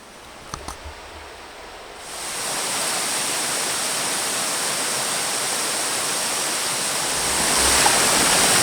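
A small outdoor stream flows steadily, a broad close rush of water that starts after a couple of seconds of quiet with a few faint clicks, then holds constant and swells slightly near the end.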